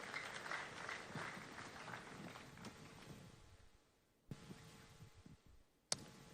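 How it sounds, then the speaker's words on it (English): Ceremonial applause from a seated audience welcoming a speaker to the podium, a steady dense crowd clapping that fades out gradually around the midpoint, followed by a couple of sharp isolated knocks. "Round of applause for Doc."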